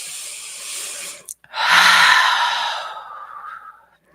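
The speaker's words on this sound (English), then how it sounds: "Taking a few more deep breaths, breathing in through the nose, exhale out the mouth." Slow deep breathing during a guided meditation: a soft airy inhale through the nose, a brief pause, then a long, fuller breathy exhale through the mouth, close and alone.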